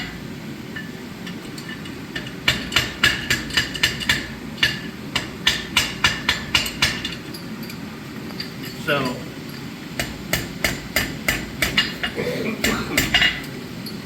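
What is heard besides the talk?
hammering a chain link at low forging temperature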